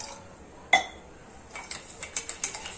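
A metal spoon stirs coffee powder, sugar and a little water in a cup, producing one sharp clink followed by a run of quick, light scraping taps against the cup, close and quiet.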